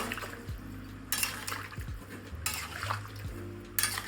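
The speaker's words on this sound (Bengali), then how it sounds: "বেশি করে জল দেবো, কারণ জলটা সেদ্ধ হতে লাগবে" Water poured into a pot of chicken stew, three short splashing pours separated by gaps, close by, with light clinks of the pot and utensils between them.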